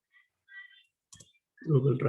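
A computer mouse gives a few soft clicks, close and quiet, before a voice begins speaking near the end.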